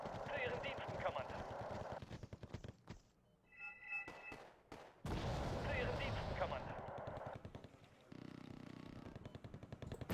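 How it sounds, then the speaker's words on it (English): Heavy gunfire and booming airstrike explosions in the Wargame AirLand Battle video game, loud and dense with rapid bursts, a brief lull and renewed blasts, with someone talking over it. "Waiting for the airstrike now."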